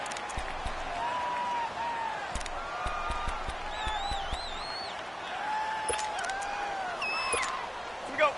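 A stadium crowd in a PS4 football video game keeps up a steady roar with whistles and cheers rising through it, loud and continuous, with faint voices mixed in.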